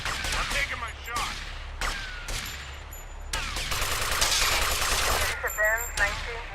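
Rapid bursts of gunfire crack out loud and close in Grand Theft Auto: Vice City, several separate volleys across a few seconds with game sound between them.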